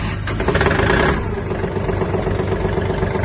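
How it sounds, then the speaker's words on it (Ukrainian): A Kubota L1-185 Japanese mini tractor engine, glow plug preheated, cranks briefly and catches, then settles into a steady, rattling idle close by. "Ну і давайте заведемо наш великий міні-трактор."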